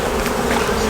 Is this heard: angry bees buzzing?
yes